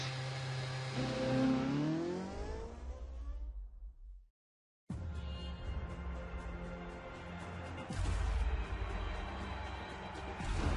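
F1 race car in the F1 2013 video game pulling out onto the Abu Dhabi track, engine whining up through the gears, cutting out briefly to silence, then roaring back loud and steady.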